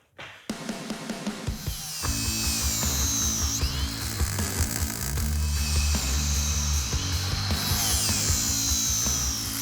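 A power grinder cuts a contour into the metal frame of a 1970 Dodge Super Bee. It spins up after a short pause, then runs loud and close with a rising and falling whine as it bites into the steel.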